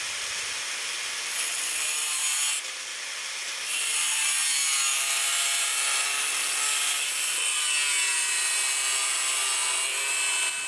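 A hand saw cuts back and forth through the end of a draw knife arm made from an old diamond blade, loud and close, with a steady rasping stroke and a brief pause early on.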